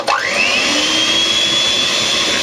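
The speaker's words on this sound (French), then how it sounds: "à l'aide du batteur électrique, vous mélangez la farine avec votre pâte jusqu'à obtenir une pâte bien onctueuse" Electric hand mixer blending flour into apple cinnamon cake batter, a loud steady motor whine that spins up quickly at the start and holds a constant high pitch, close and alone.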